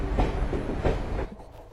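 Train carriage rolling along the rails, a steady rumbling clatter with rhythmic bumps, fairly close and continuous, easing slightly toward the end.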